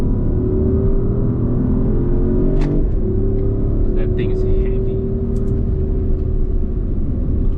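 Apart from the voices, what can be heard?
Porsche Taycan driving on Sepang race circuit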